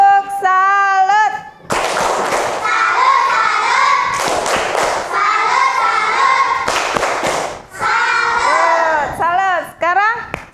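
Fourth-grade classroom students do a rhythmic group clap, bursts of loud hand claps and thumps alternating with children chanting in unison, close and lively.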